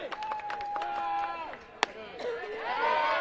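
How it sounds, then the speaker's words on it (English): Quick staccato clapping rises from the West Henderson dugout at a high school varsity baseball game against Franklin, a short burst of sharp claps while a voice talks over them. "Staccato clapping coming from the West Henderson dugout."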